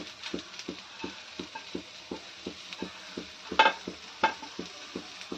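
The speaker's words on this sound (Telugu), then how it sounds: "ఇప్పుడు ఇందులోకి జీలకర్ర మరియు మెంతులు వేసుకుంటున్నానండి" Cumin and fenugreek seeds sizzle in hot oil that has already browned to golden, with a soft frying hiss under regular, rhythmic tapping of a stirring spoon and a couple of sharper clinks near the end.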